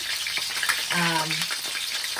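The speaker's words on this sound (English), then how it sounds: "when you're pan frying chicken with skin" A steady, hissing sizzle of chicken skin frying in a hot pan, with a brief voiced sound briefly over the crackle midway.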